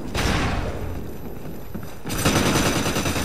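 Automatic gunfire from the Call of Duty: Ghosts game on Xbox One, played as a dense, loud rattle of rapid shots with a short lull in the middle before the barrage picks up again.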